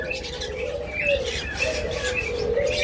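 Pet birds in a shop, green forpus with lovebirds and cockatiels, chirp and tweet continuously and close by, with overlapping high calls over a busy background murmur.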